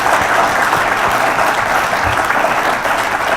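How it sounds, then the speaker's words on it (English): Audience applauding the panelists at a sports business panel, steady dense clapping from a crowd filling the room at a loud, even level throughout. "I give these guys a big round of applause"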